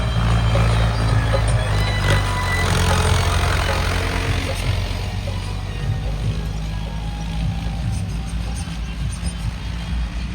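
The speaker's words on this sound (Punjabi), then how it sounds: "ਆ ਬਾਰਡਰ ਦੇ ਪਾਰ ਚੱਲ ਰਿਹਾ ਟਰੈਕਟਰ" Tractor engine running in a field near the India–Pakistan border, a steady low idling drone from the diesel motor that holds throughout, fairly close and without pause.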